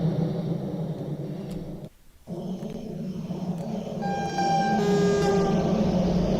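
A German train at a sim Dresden–Chemnitz route in Train Sim World 2 rumbles loudly along, briefly cuts out, then a sustained multi-tone horn sounds for about two seconds over the running noise.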